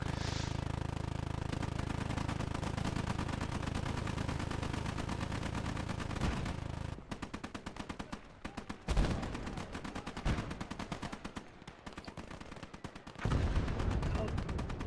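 A Minenwerfer mortar in a war video game fires and explodes amid rattling gunfire, a dense roaring barrage that gives way to sharp, choppy bursts and another booming blast.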